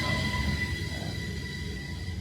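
Steady rumble and hum of a train at Antwerp station, with a continuous low drone and faint high tonal whine, alone with no voices.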